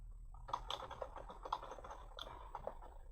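Computer keyboard keys click in quick, uneven bursts, soft and close, over a low steady hum with no talking.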